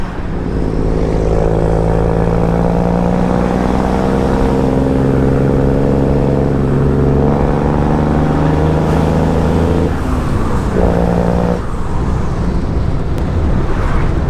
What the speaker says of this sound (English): I still love driving this truck.